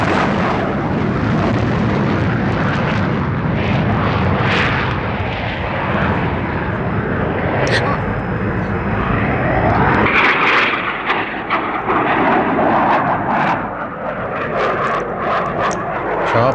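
Military jet aircraft from an Iranian war film taking off from runway 31 right, a loud steady roaring engine thrust filling the scene, shifting in character partway through with rumbling blasts.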